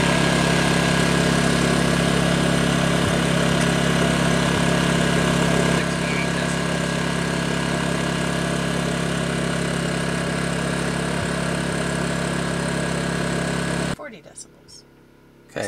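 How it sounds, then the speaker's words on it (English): An idling generator outside a van with all doors closed, heard from inside as a steady, muffled low hum that runs unchanged for about fourteen seconds and then cuts off abruptly. "40 decibels with the generator just idling outside with all the doors closed"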